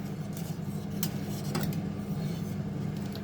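A spoon stirs cherry pie filling in a pot returning to the boil, giving a steady close scraping and clinking against the metal with faint bubbling underneath, continuous throughout.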